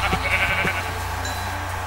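Sheep bleating in Minecraft near a swamp biome, a few short repeated bleats over a steady low game ambience.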